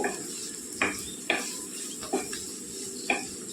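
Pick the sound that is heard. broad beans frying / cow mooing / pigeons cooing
broad beans frying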